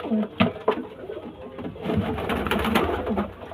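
Pigeons in a loft, including a pair of Fulshira pigeons, coo in repeated low throaty phrases close by, with some background activity and faint human presence.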